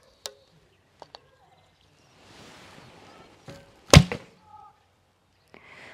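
A Black Tatar bow with a 35 lb draw looses an arrow in one sharp, loud twang near the middle, with a few faint clicks before it and soft handling noise around it.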